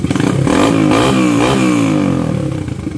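A 2011 Yamaha Grizzly 700 ATV engine starts easily and revs up steadily, a loud, close, throaty rumble with rattling clatter that holds and then eases slightly.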